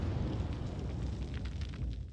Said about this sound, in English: Somebody passed away due to overexposure to high-yield explosives.